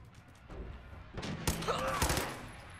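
Bursts of rapid automatic fire from a glow sighted auto pistol in Fallout 4, loud close shots in clustered volleys with impacts and mechanical clatter, over background game ambience.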